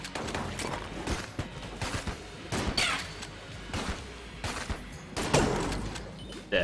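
Rapid gunfire and bullet volleys from the video game Enter the Gungeon pop and crackle in dense, irregular bursts, a steady barrage of sharp shots with no talking.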